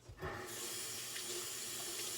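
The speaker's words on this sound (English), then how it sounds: "let me just wash my hand a little bit" Tap water runs steadily into a kitchen sink while hands are washed during cooking, a close, continuous hiss and splash starting after a brief pause, with no talking.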